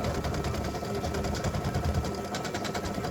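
An embroidery sewing machine stitches a ribbon design for freestanding lace earrings, its needle running in a steady, fast, continuous whir with motor hum, close and sustained throughout.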